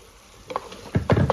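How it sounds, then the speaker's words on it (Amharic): Tomatoes fry in a pan for Ethiopian alcha firfir, with a few short scraping stirs and soft sizzling in close bursts. "ቲማቲማችን በደንብ እየበሰለ ነው።"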